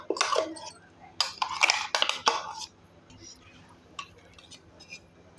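Ground almond and poppy seed paste being scraped from a grinder jar into a pot, giving a few bursts of metal and utensil clinks and scraping, close and fairly loud, followed by quieter faint taps.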